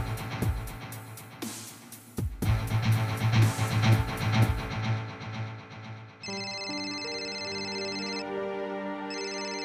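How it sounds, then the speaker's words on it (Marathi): A phone ringtone sounds alone at close range from about six seconds on, a steady electronic melody that follows louder dramatic music and noise in an indoor scene from a Marathi TV serial. "रघुचा फोन?"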